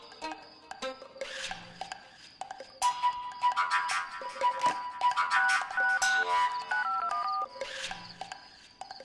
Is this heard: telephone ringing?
yes